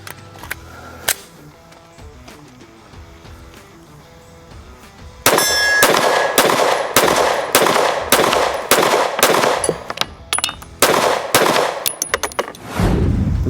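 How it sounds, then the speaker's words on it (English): An H&K VP9 pistol with a 17-pound ZR Tactical guide rod fires PMC 115 grain rounds, a rapid string of about a dozen loud, sharp shots after a quieter start. "We're going to shoot PMC 115 grains through this."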